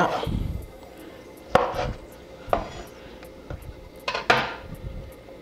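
A knife slices baked macaroni gratin into pieces, producing several sharp scrapes and clinks of the blade against the dish, spaced irregularly and heard up close over a quiet background.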